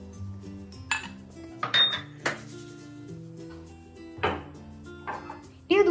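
Washed dishes and pots being stacked in a home kitchen, with sharp intermittent clinks and clatters, some close and loud, over a steady tonal background.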